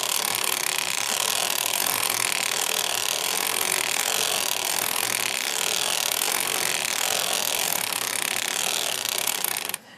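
A hand-cranked circular sock knitting machine with a weight stack and oiled latch needles turns steadily, giving a continuous close mechanical whirring and ratcheting clatter with no voices.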